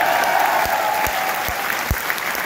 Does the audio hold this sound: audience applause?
yes